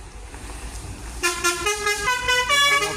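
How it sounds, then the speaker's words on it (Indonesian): A Basuri bus horn blares loudly and nearby, a sustained multi-tone honk that starts abruptly partway through over a low idling engine rumble. "mantap juga klaksonnya, klakson Basuri"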